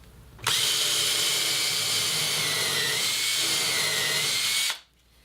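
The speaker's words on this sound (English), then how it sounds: "Now I have my cordless drill outfitted with a countersink bit" A cordless drill fitted with a countersink bit runs in one steady, continuous whine for about four seconds, starting and stopping abruptly, close and loud with no talk.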